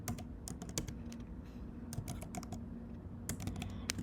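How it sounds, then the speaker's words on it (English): Rapid typing on a computer keyboard while entering a search term into a design app's search bar, a steady stream of quiet key clicks in uneven bursts with brief pauses, no voices. "on the searching bar, we're just gonna type Magic Media"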